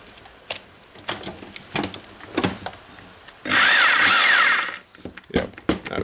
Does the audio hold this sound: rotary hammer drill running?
yes